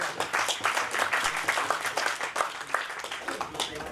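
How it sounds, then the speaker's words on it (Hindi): Clapping from the audience at a national convention of small and medium newspaper publishers, a crowded hall's brisk, continuous applause, fairly loud with dense overlapping claps and a faint murmur of voices beneath. "अगर आप लोग इस पर सहमति हैं तो जोरदार ताली बजा करके"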